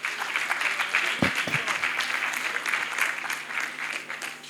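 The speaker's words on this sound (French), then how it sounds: "On applaudit bien fort pour Laetitia Ncho." Warm applause from an awards ceremony audience, many hands clapping in a dense, steady stream, fairly distant and even in level, with a couple of louder thumps early on.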